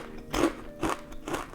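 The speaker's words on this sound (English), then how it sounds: "I wanna try these crunchy curls recommended by you guys." Three crisp, evenly spaced bites crunch through Trader Joe's vegan crunchy curls chips, each a sharp, close crackling snap separated by brief quiet.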